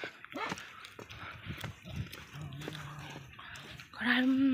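Dogs bark at intervals amid people talking close by, with a louder, drawn-out yelp standing out near the end.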